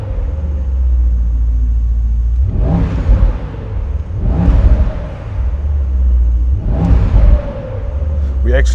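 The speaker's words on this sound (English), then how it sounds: "I will try to give it a bit of revs" A Brabus SL GTC Rocket super cabriolet, fresh from Italy, gets three loud, deep revs with a pause between each, and the engine idles with a low rumble in between.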